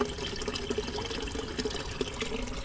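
Water trickles and splashes steadily through a backyard pond bog filter, pumped in through plumbing and rising up through gravel, a continuous close liquid burble with small drip-like accents and no voices.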